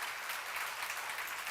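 A church congregation applauding during a sermon, a dense, steady wash of many hands clapping together, even in level with no voices on top.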